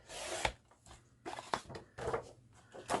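A blunt blade drags and scrapes through a piece of card in short separate strokes, close and fairly quiet, with pauses between the cuts.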